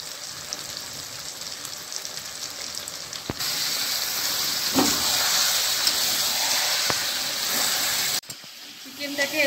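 Marinated chicken goes into a pan of fried ginger-garlic paste for chicken kosha, and a quiet hiss jumps into a loud, continuous sizzle with a few soft knocks before it cuts off near the end.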